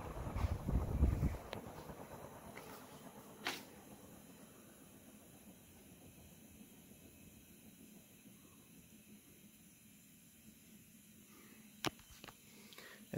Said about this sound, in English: this thing's gonna take forever to do spin down